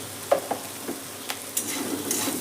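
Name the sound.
ginger being lightly fried in a pan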